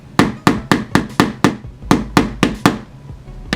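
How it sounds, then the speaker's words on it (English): A hammer drives a nail into a wall with about a dozen sharp, close knocks in a quick, slightly uneven rhythm, each strike ringing briefly before the next, then a short pause near the end. "I at least got the nail to stay in the wall"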